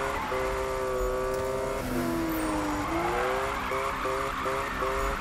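A Porsche drifting in a Need for Speed racing game, with a steady loud engine drone and tire squeal whose pitch sweeps up and down as the car slides continuously.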